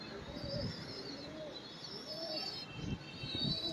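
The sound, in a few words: pigeons cooing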